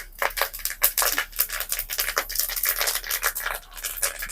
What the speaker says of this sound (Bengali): প্রথমে ফোড়ন দিয়ে দেবো কারি পাতা